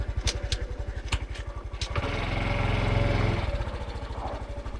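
A Honda CT125 motorcycle idles close by on an alpine mountain road, its single-cylinder engine thumping in a quick, steady rhythm, briefly revving into a smoother, louder drone before dropping back to idle.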